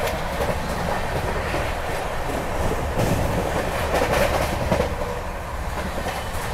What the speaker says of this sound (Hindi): ट्रेन बिल्कुल कंटिन्यूसली 130 की रफ्तार में भाग रही है